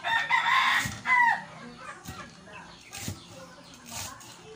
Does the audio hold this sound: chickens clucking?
yes